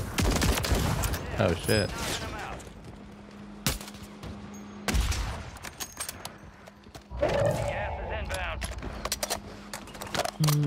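Video game gunfire crackles in repeated sharp bursts and volleys, some close and loud, with someone talking excitedly between and over the shots.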